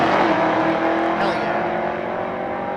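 Chevrolet Silverado pickup racing on a dragstrip, a loud engine roar that peaks early and slowly fades as it pulls away, with background voices.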